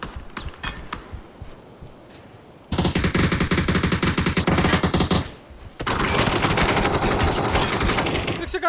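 Automatic gunfire in the battle-royale game PUBG: a few scattered shots, then two long, dense bursts of rapid fire separated by a brief pause, loud and close, with no talk over it.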